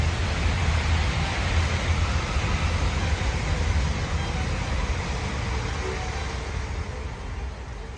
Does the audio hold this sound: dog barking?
no